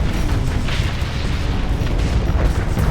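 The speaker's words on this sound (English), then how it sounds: "I like these little explosions" Small explosions from ship weapons in a space combat game make a continuous, loud low rumble of overlapping booms and bursts lasting about three seconds.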